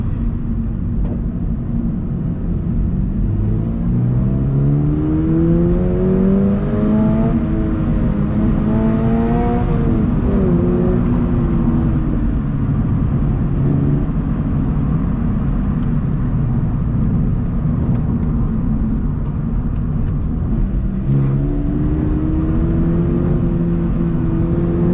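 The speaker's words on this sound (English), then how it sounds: "Nice engine note. It does have the stock exhaust" A Toyota GR86 engine with stock exhaust hums steadily, its pitch rising and falling through several revs as it accelerates, heard from inside the car on a road in Japan, without talk.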